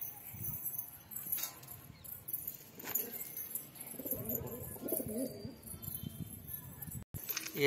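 Pigeons coo and rustle nearby over a faint background hum, with a few soft knocks; no clear talking.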